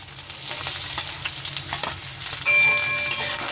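Chopped bell pepper (shimla mirch) sizzles and spatters in oil in a kadhai, with stirring, after onions; a steady crackle that jumps louder midway as more goes into the hot pan.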